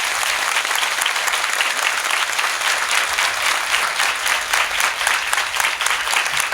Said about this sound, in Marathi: तुम्ही सगळेजण यांच्यासाठी टाळ्यांचा कडकडाट करा